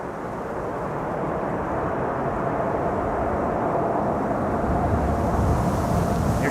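Wake turbulence after an airliner lands at Schiphol on the Kaagbaan runway, heard as a steady, low, rumbling rush of air that holds level throughout, moderately loud and alone.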